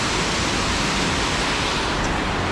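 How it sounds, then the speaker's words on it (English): A waterfall on a clear Pennsylvania mountain stream gives a loud, steady, close rush of falling water that fills the whole span without a break. "look at this awesome waterfall that we found"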